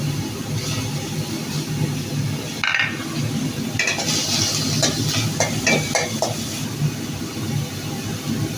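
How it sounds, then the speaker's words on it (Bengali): Chopped garlic and onion hit hot oil in a cooking pot, giving a steady loud sizzle with scattered crackles and a few scraping stirs throughout. "তেলে দিয়ে দেবো, এখানে আছে রসুন কুচি আর হচ্ছে পেঁয়াজ কুচি,"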